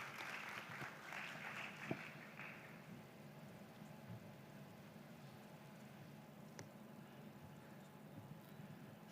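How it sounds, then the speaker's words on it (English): An audience at a Middle East and Africa digital transformation summit gives a round of applause, with clapping fairly full at first and then fading to a soft, sparse patter in a large hall. "A round of applause as Professor Indest makes his way."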